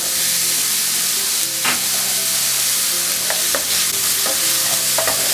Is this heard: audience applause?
no